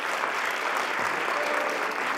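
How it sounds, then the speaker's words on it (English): Audience giving a round of applause for the UNH octet, a dense, even burst of clapping from a crowd, loud and close throughout. "let's give our UNH octet a wonderful round of applause"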